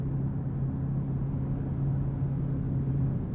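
A 2022 Genesis G70 3.3T V6 in Sport Plus with its 8-speed automatic accelerates hard, giving a low, steady engine rumble and hum heard from inside the cabin, fairly quiet and without talk.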